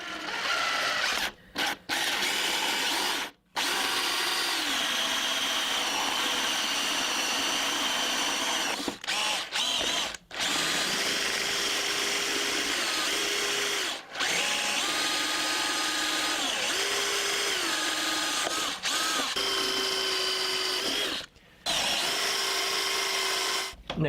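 A power drill bores out an engine air box, a steady high whine running almost continuously with brief stops and restarts.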